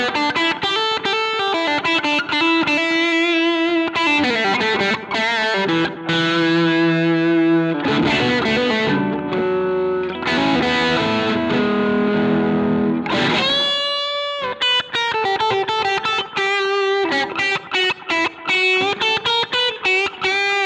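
Fender American Professional II Telecaster played through distortion and effects with its push-push series/parallel switch engaged, loud chords and single-note lines ringing out with sustained tones, a brief pause, then choppier strummed passages, with no talking.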